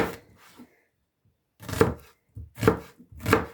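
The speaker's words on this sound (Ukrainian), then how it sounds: "І далі ріжемо дві цибулини." Four crisp knife chops slicing onions on a cutting board, spaced unevenly, with quiet pauses between strokes.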